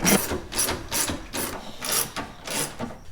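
Ratcheting clicks from tightening headlight bolts on a 2002-2005 Dodge RAM, coming in steady repeated bursts of close, crisp pawl clicking with short pauses between strokes.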